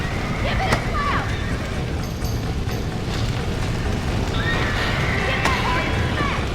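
A horse whinnies twice in Red Dead Redemption over a dense, noisy background of rumbling and clatter, with voices shouting faintly in the mix.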